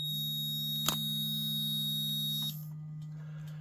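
An Anpuds 1/4-inch digital torque wrench emits a steady, continuous electronic beep on reaching target torque, a clear sustained tone lasting a couple of seconds with a small click partway through, then cutting off abruptly.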